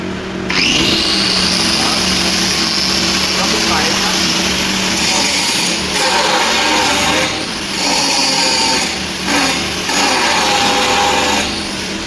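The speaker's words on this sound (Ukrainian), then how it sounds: "Взяв кутову шліфмашинку, її потужність 720 Вт, спробуємо, чи потяне цей малючок її." A 720 W angle grinder powered by a Black+Decker BXGNI900E petrol inverter generator whines loudly and steadily, its motor dipping briefly a few times before spinning back up, with no one speaking.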